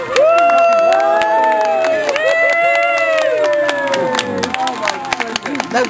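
A crowd cheers and roars loudly at a lively event, with many overlapping excited voices, whoops and scattered clapping filling the whole stretch close to the microphone.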